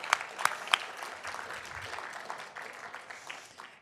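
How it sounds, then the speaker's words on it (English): Audience applause breaks out at a formal paralegal competition banquet dinner, honoring the students' coaches; a few sharp claps stand out at the start, then dense, steady clapping from a room-sized crowd continues. "So all the students need to give their coaches a big round of applause."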